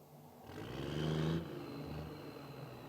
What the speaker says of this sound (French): Il manque quoi ce bruit de camion fantôme là?